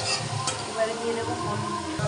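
Spices with grated ginger, chilli powder and a little sugar sizzle steadily in a hot pan while being stirred, a continuous close frying hiss with scraping strokes.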